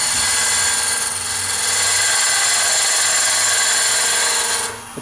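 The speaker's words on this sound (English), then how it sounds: "I am not above truing up the end grains with a skew." Skew chisel truing up end grain on a wood lathe, heard as a loud, steady, close hiss of cutting over the lathe's low hum, fading out at the end.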